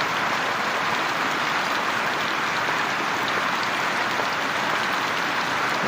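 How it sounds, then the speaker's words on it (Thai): Heavy rain falling in March over open farmland with sugarcane fields, a dense continuous hiss that holds steady and close throughout, with no voices. "ได้ยินแต่เสียงฝนนะครับ"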